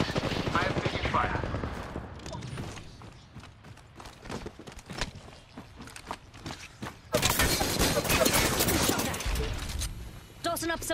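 Rapid bursts of automatic gunfire crackle through an Apex Legends firefight, loud and dense with scattered single shots, then a heavier sustained volley near the end, with voice callouts mixed in.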